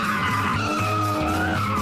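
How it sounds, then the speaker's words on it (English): Tyres squeal in a long continuous skid as a car spins donuts, the screech wavering in pitch over a rumbling engine. "a big skid now"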